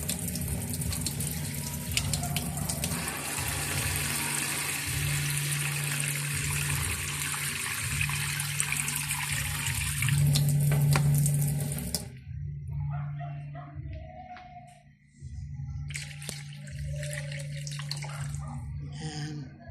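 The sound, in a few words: water poured into a pot for broth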